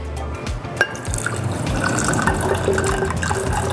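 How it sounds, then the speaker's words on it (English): Half a cup of water poured for feeding water kefir grains, a splashy, bubbling stream into a container that starts with a few drips, then fills steadily and continuously at close range. "I'm going to put 1/2 cup of water."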